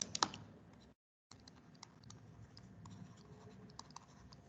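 A pen writes out an equation, making faint, close scratching strokes with small clicks, broken by a brief silent gap.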